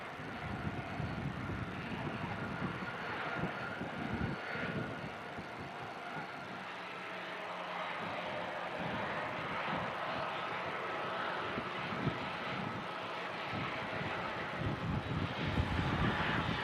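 A heavy Saudi jet airliner departs Manchester Airport, its engine roar a steady distant rumble that swells slightly toward the end, with no talk over it.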